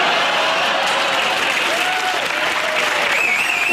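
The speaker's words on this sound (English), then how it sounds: "She's already got a round of applause." A studio audience on a British comedy chat show claps loudly and continuously, a full, even wash of applause with a few faint voices rising through it near the end.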